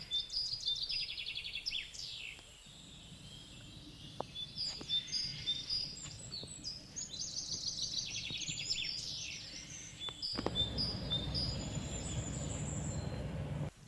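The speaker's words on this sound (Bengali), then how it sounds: "যেমন বিভিন্ন ধরনের পাখির ডাকাটাকি শোনা যায়" Many high chirps and whistled calls from several birds overlap continuously over a low background rumble, heard along a village road.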